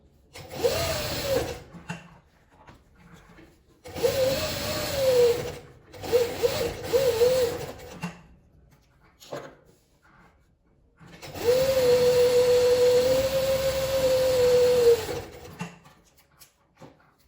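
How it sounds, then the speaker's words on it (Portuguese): A sewing machine stitches along the sides to hold the lining of a cylinder cosmetic bag, running in whirring bursts of rapid stitching with pauses between them. The longest run comes near the end, and no one speaks. "Agora aqui eu vou passar uma costura aqui nas laterais, só pra prender o meu forro."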